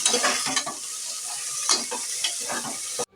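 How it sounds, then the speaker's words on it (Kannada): Chopped onions frying with spices in ghee and oil sizzle loudly and continuously while a utensil scrapes and stirs in repeated bursts, then the sound cuts off abruptly. "ಕಟ್ ಮಾಡಿ ಇಟ್ಕೊಂಡಿದ್ದಂಥ ಈ ಆನಿಯನ್ಗಳನ್ನು ಕೂಡ ಮಸಾಲ ಜೊತೆ ಹಾಕಿ ಫ್ರೈ ಮಾಡಬೇಕು ಚೆನ್ನಾಗಿ."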